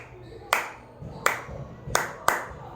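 Hands clap out a simple rhythm in a classroom rhythm-writing game, four sharp, close claps with uneven spacing, two wider apart, then a quicker pair at the end, over a quiet room.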